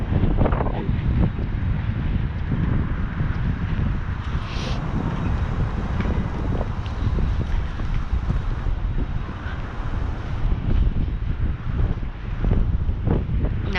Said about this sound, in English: I apologize if there's a lot of wind coming through here, because it's really windy